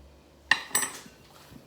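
Spoon stirring salted chicken in a metal pan gives two quick, close metallic clinks and scrapes, then quiet.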